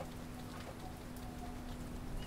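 Steady rain falls in the survival video game Mr. Prepper, a dense continuous hiss of drops with a faint low hum running underneath.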